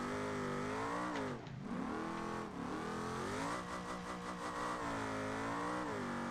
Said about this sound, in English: Am I ever gonna stop this thing from doing donuts?